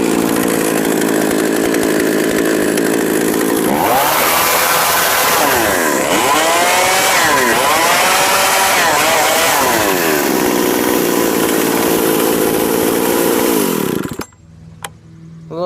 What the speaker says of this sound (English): See if I can turn the idle down and I'll restart it for you.